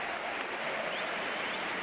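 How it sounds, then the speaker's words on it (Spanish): Football crowd at La Rosaleda stadium breaks into sustained applause, a dense, even wash of clapping from thousands of spectators with no break. "en el minuto 20 la Rosaleda brindó un sonoro aplauso a Kirian Rodríguez."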